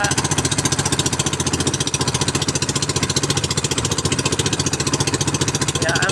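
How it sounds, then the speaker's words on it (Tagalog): A fishing boat's motor chugs steadily at close range, a fast regular putter with a rough mechanical texture that holds even and continuous throughout, with no voices over it. "angat-angatan din natin ating makina."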